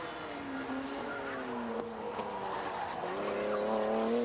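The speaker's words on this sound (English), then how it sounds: "But power sliding out of turn 15." Race car tires squeal as the car power slides out of a turn, giving a sustained wavering screech that bends in pitch and swells toward the end, heard from a distance with engine noise underneath.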